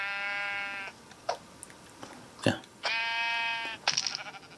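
Two bleats from sheep in the video game Minecraft, each a drawn-out wavering tone about a second long, with soft clicks and thumps between them and a brief word from a man.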